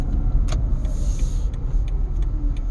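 A 2012 Toyota Prius II pulls away on the road, its hybrid drivetrain giving a low, steady rumble with road noise close inside the cabin and a few faint clicks over it.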